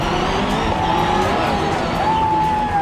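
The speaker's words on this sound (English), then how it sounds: "Later that afternoon, Sverre's number 11 Subaru is lined up for the final showdown" Number 11 Subaru rally car launching at a Global RallyCross start in New York, a loud sustained engine roar with rising pitch and tire noise, close, with crowd or ambient noise underneath.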